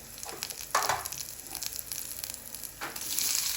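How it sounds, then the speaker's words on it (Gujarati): Cumin seeds and curry leaves sizzling in hot oil for a tempering, a steady crackling fry with sharper spits and pops as the leaves hit the oil, close and continuous with no talk. "એમાં લીમડાના પાનથી વઘાર કરીશું."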